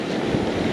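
Ocean surf on a fishing beach, a loud continuous wash of breaking waves with wind rumbling across the microphone.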